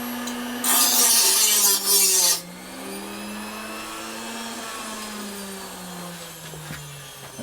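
A grinder bites into scrap chrome-plated brass plumbing screws with a loud, harsh rasping burst lasting about two seconds, then the motor keeps whining steadily as it spins down.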